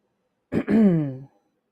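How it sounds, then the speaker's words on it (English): A single throat clearing followed by a drawn-out, voiced cough-like rasp, close and fairly loud, with no talking. "Excuse me, I am just getting over a cough."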